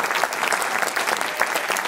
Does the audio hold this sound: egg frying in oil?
no